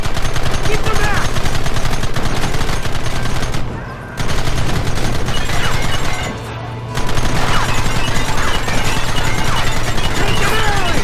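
Loud, close, sustained gunfire fills a shootout in the video game Red Dead Redemption: dense rapid volleys of rifle and machine-gun shots with two brief lulls.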